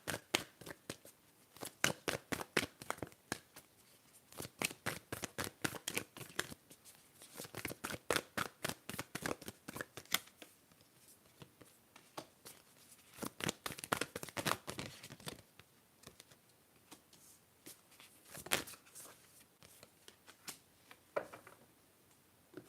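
Moonology oracle cards being shuffled, with soft, quiet riffles and slides in several separate bursts, close and gentle, with pauses in between.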